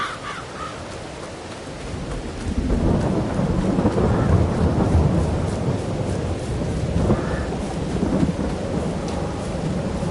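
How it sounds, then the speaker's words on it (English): Steady rain in a farming video game hisses with rumbling thunder building midway, while crows caw intermittently in the background. "Oh man, it's raining."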